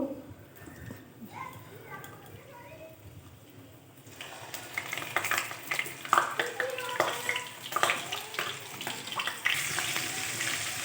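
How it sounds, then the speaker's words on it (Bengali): Diced potatoes drop into hot mustard oil in a kadai and sizzle, the crackle rising suddenly and staying busy and close, with a soft kitchen background before the oil bursts to life. "এখানে কেটে রাখা আলুগুলো আমি এবার তেলের মধ্যে দিয়ে ভেজে নেব।"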